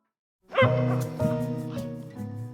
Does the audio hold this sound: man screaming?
no